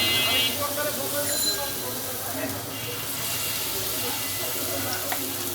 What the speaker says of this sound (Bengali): আমি আরও এক ব্যাচ ভেজে নিতেছি।